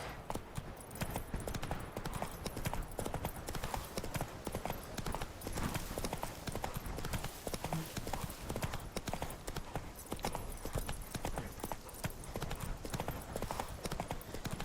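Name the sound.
Geralt's horse Roach trotting, from the video game Witcher 3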